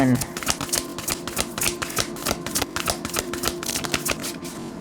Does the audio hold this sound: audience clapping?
no